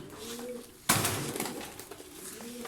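Soft pigeon coos with a low rolling tone, interrupted by a sudden clattering knock, then more cooing and faint rustling nearby.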